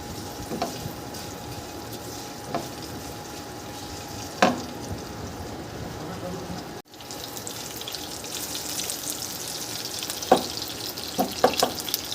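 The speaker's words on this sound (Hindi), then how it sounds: "ये इन तीनों चीज़ों को हमें हल्का सा भूनना है कि इसमें से खुशबू आ जाए" Spices roasting lightly in a pan, a soft steady sizzle with a few spatula taps and scrapes, briefly interrupted midway before the frying hiss resumes, no one speaking.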